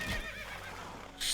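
A horse in the real-time strategy game Age of Empires II gives a clear whinny with a wavering, descending tone, followed by a short burst of noise at the end.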